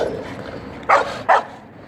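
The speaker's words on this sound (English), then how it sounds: "These are definitely dogs." Two short, sharp dog barks sound in quick succession at moderate distance over quiet outdoor background.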